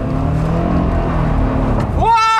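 A car drifts sideways across a frozen lake in Sweden, its engine roaring loud and close in a sustained held note that climbs sharply in a revving surge at the end.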